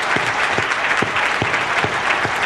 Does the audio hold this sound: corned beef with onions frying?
no